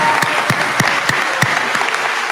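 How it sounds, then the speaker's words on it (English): Crowd at a Moriarty High School graduation ceremony applauds the graduates, a dense wash of clapping with a few sharper individual claps standing out, loud and steady throughout. "Let's give them a round of applause."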